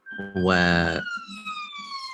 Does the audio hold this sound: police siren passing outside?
yes